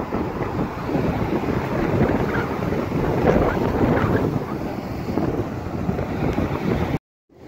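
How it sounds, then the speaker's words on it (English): Sea surging over the seawall along a coastal highway in Georgetown, Guyana, a loud, continuous rush of breaking water buffeted by heavy wind noise, with no voices. "on a morning when the sea is coming over the wall"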